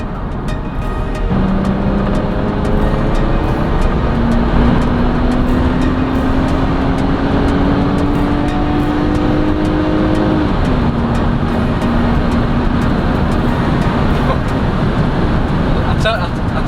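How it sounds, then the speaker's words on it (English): A smooth-running car drives at speed with a steady road and engine drone; the engine tone climbs gradually, then drops abruptly as a gear changes, and resumes rising, with a person talking over the cabin noise. "I can hear it change gear, but I can't feel it change gear."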